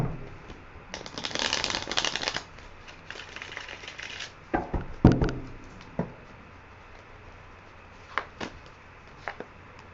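Tarot cards shuffled in bursts, a dense riffling rush early on followed by scattered taps and knocks as individual cards are pulled and laid down, close and fairly quiet with no talking.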